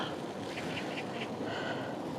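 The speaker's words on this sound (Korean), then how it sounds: "새소리" Faint, sparse bird chirps on a quiet winter weekday mountain trail at Samseongsan, a few short high calls rising over a soft steady background hiss, distant and no talking.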